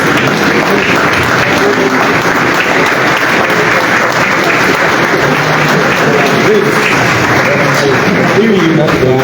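A large crowd at an investment conference in Liberia applauds loudly and continuously, with dense clapping held at full strength throughout while voices carry underneath.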